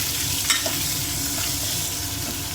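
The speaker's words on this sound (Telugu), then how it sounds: "ఈ ఆనియన్ వేసుకుందాము" Chopped onion sizzling and frying steadily in a pan for fried rice, a continuous close hiss with light stirring scrapes and no voices.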